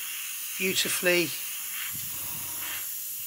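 An airbrush hisses steadily while spraying RP61 Metallic Grey paint onto a plastic model, with someone speaking briefly over the start of the spray.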